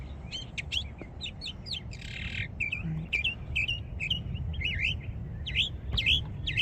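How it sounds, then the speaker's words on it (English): A songbird at Springs Preserve in Las Vegas repeats bright, high chirps and short warbling phrases in quick bursts, fairly close and clear over a low outdoor rumble, with no talking. "I don't know if you can hear that bird"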